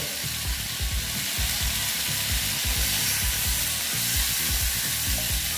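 Snake gourd (chichinga) pieces fry in hot oil with a steady, bright sizzle, under a rhythm of soft, low stirring knocks from the pan.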